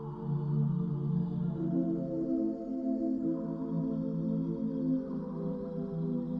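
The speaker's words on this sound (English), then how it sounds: "I just started with this simple pad using these triad chords" A slow, sustained synth pad plays simple triad chords in a dark trap-style production, the chords shifting smoothly with a warm, steady tone, loud and alone with no voices.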